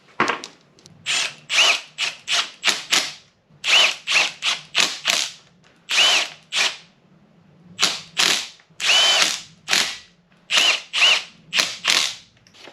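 A power tool tightens the small bolts on an LS 6.0 engine being assembled for a 1955 Buick swap, running in close, loud, repeated short bursts of whirring and ratcheting, separated by brief pauses.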